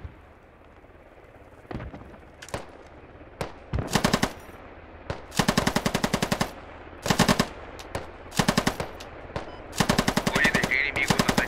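Bursts of rapid automatic gunfire in the video game Squad, on a 50 vs 50 server, several volleys of varying length with short pauses between, loud and close over a low background rumble.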